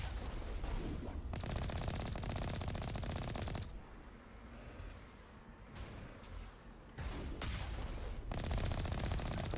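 Automated turrets firing in the video game Mass Effect 1, sustained rapid bursts of gunfire that break off in a short lull and then start again, loud and dense with no talking.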